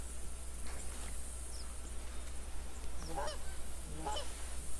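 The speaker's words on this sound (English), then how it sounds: "I can hear some geese." Geese honk in the hunting video game theHunter, a few faint, distant calls clustered near the end over a steady hiss of ambient wildlife noise.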